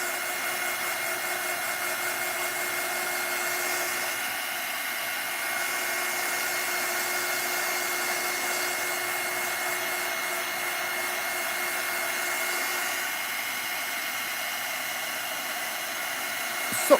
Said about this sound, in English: And I'm going to get the heat tool again.